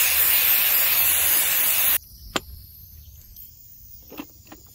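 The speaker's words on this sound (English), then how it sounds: "We'll just use some electronic cleaner, kind of clean up our mess in there." A can of electronic contact cleaner sprays in a loud, steady hiss for about two seconds and then cuts off, followed by faint ticks and a quiet room.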